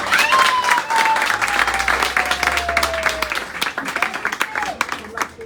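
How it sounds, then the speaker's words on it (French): Loud community audience clapping strongly at first, then thinning into looser, scattered claps, with a faint whistle-like tone and some crowd voices mixed in. "Applaudissez!"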